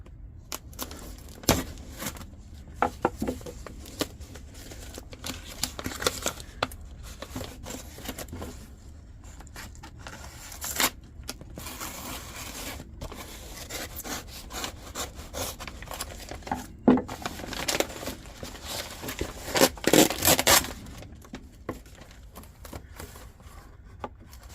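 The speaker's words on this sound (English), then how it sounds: "Need to sharpen my knife." Knife being sharpened at a camp workshop: prolonged, irregular scraping and rubbing strokes with occasional sharper scrapes and knocks, moderately close and fairly quiet.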